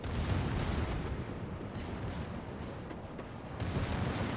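The battleship Massie fires its front guns in World of Warships, producing a loud, booming roar that fills the whole moment, with a renewed blast near the end.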